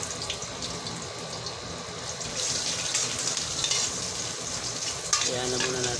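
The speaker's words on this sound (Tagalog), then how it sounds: "Kaya na muna natin yung luya na matusta ng konti" Ginger toasting and being stir-fried in hot oil in a pan, a continuous close sizzle with scraping stirs that grows louder partway through.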